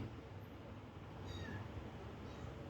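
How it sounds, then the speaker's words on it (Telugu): A small kitten gives one short, faint, high meow in the middle of a quiet indoor moment, with soft room hiss around it. "ఇప్పుడు కూడా మ్యావ్ అంటూ ఉంది చూడండి"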